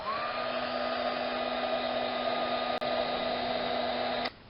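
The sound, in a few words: heat tool heat-setting embossing powder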